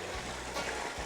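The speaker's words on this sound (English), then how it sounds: "Just like a sharp-crested weir, water flows over the crest." Water flows over the crest of a sharp-crested measuring weir, producing a steady close rushing and gurgling wash throughout the short stretch with no talk.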